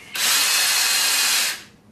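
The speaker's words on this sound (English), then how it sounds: "I'm gonna spin this drill." A power drill whirs loudly in one steady burst of about a second and a half, spinning up sharply and winding down, used while installing a TV antenna.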